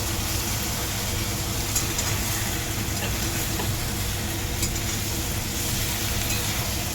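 Paneer cubes sizzle in a frying pan while being made into chilli paneer, a steady dense hiss of frying that holds close and even throughout with faint stirring clinks.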